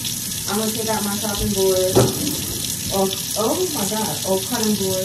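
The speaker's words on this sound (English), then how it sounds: "I'm gonna let the cold water run." Cold water runs steadily from a kitchen tap into the sink, a continuous close splashing rush, while someone speaks briefly over it.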